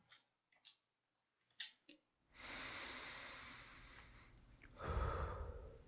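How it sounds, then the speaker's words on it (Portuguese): Heavy, tired breathing as a denoised sound effect: a few short breaths and sniffs over silence, then long, loud exhalations and gasps close to the microphone. "eu queria que fosse uma respiração pesada também, porque eu estava demonstrando que eu estava cansado"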